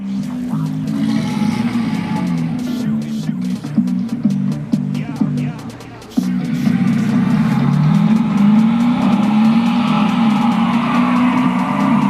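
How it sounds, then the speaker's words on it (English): A recorded Porsche engine runs loudly and steadily, its pitch shifting and rising as it revs, with a brief drop partway through before it roars on. "lets you listen to specific sounds of parts on different Porsche models from different decades"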